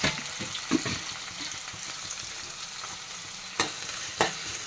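Onions sauté in oil in a pan with cinnamon, cloves and cardamom, a continuous close sizzle punctuated by sharp clinks and scrapes of a stirring spoon.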